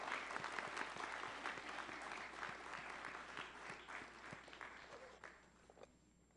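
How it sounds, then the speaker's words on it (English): Warm applause for the performers at a live show, many hands clapping together at full strength before gradually thinning and fading out near the end. "Can we have one more round of applause for all the performers today?"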